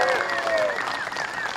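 A crowd at a Renaissance faire gives a short burst of applause for a group of children, with whoops and cheering voices over the clapping.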